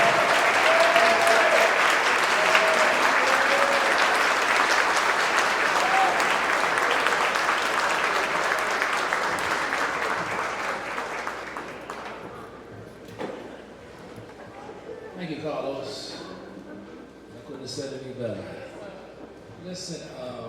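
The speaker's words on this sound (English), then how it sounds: "please give Mr. Harvey Dorsey a loud round of applause" A football alumni hall of fame ceremony audience applauds loudly and steadily for Harvey Dorsey for about twelve seconds before the clapping dies away, followed by scattered voices and room noise.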